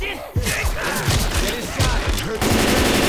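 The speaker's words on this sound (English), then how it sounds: "let's stop shooting each other" Rapid gunfire in Left 4 Dead 2 as players shoot each other in The Parish, loud bursts of automatic shots with thudding impacts, close and dense, barely pausing between volleys.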